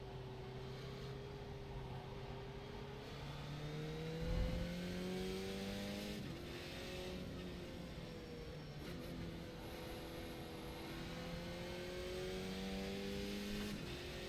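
Skip Barber race car in a racing video game at Brands Hatch Indy, its low-powered engine droning steadily with harmonic lines rising and falling through gear changes and corners, one brief low thump near the middle, continuous and fairly close.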